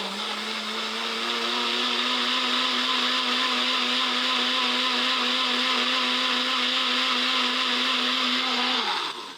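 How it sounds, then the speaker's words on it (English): A blender powered by a UGREEN PowerRoam 600W portable power station whirs loudly and steadily for several seconds, then winds down as the motor stops. "I'm going to go ahead and hit this blender for a while and see what happens."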